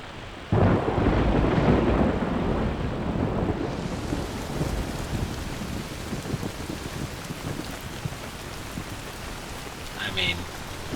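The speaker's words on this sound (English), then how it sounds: "I will say one thing they get right is the rain." Rain and a thunderstorm in the survival game Soulmask: a loud thunder crack opens into dense steady rainfall hissing and pattering on surfaces, continuing evenly throughout.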